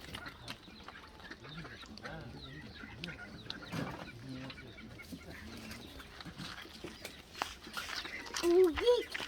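Chickens cluck softly on a farm among turkeys and ducks, the fowl calls scattered and close while people talk and a baby's voice rises near the end.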